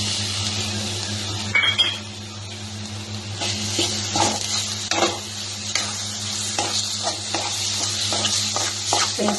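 Garlic drops into hot oil and fries with a continuous close sizzle while a utensil stirs and clinks against the pan in irregular strokes, and no one speaks.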